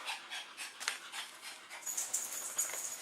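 A Labrador pants rapidly and rhythmically close by, quick breathy huffs repeating throughout with a faint whimpery edge.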